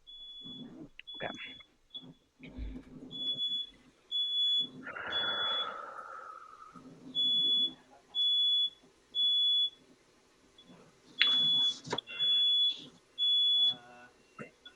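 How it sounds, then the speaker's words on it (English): A smoke detector chirps with a shrill, high electronic beep, repeating in short evenly spaced bursts that grow more regular toward the end, while someone talks and moves around between beeps. "Something's beeping."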